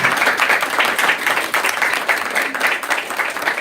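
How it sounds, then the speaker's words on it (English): A guest at a Diwali celebration receives a steady, dense round of applause from a crowd, loud and continuous throughout with no talking. "Please give him a round of applause."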